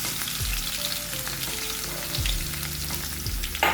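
Crushed garlic sizzles steadily in hot oil in a pan while cooking bhindi masala, with a continuous bright frying hiss and a few low clunks, no voices.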